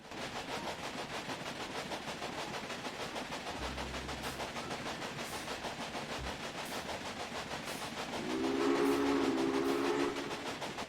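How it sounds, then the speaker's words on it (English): A steam train running in the Railway Empire video game, with rhythmic chugging clatter throughout, a brief low rumble, and a steam whistle blowing for a couple of seconds near the end. "Your train is now traveling between Omaha and Norfolk."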